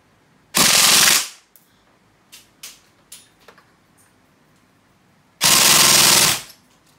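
An E&C 603 airsoft BB gun fires two long full-auto bursts, each about a second of rapid loud rattling, separated by a quiet gap with a few scattered clicks.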